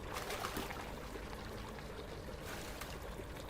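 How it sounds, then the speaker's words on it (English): Gun parts are washed in a caustic soap solution in the Gunsmith Simulator video game, giving a steady watery sloshing and pouring sound, continuous and moderately loud. "So we're gonna clean our parts in the caustic soap solution."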